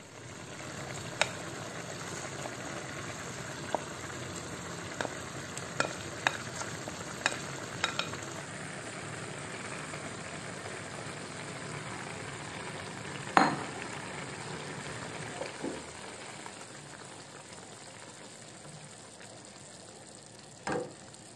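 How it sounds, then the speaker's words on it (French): Food gently cooking in a pan over low heat, a steady soft sizzling bed with faint occasional stirring clicks and small spits throughout, with no talking. "je baisse le feu et je le laisse cuire pendant environ 15 minutes"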